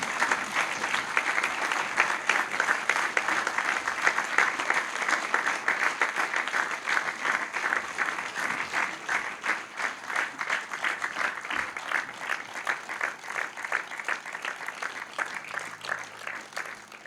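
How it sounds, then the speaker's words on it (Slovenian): Long, loud audience applause at a tribute ceremony in Slovenia, dense steady clapping with a faint rhythmic pulse emerging as it continues. "kar končuje vsako gledališko predstavo in vsako filmsko premiero, to pa je aplavz."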